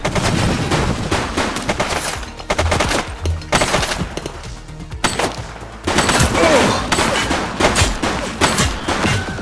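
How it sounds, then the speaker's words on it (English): Rapid bursts of gunfire in the police video game The Precinct, loud and dense, with volleys of shots crackling almost continuously through the stretch and a brief lull near the middle. "She's shooting!"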